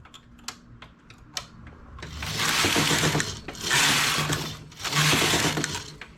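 Domestic knitting machine knitting rows of a slip-stitch sample, with a few light clicks followed by three loud rasping carriage passes, each lasting about a second, close by.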